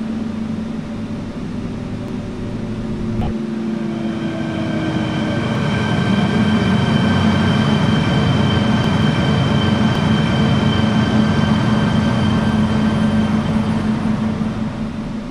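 A Hong Kong MTR K-Train on the Tung Chung line, simulated in Hmmsim 2, rolls into a station with a steady rising rumble, motor whine and tonal hum, growing louder and holding near and continuous.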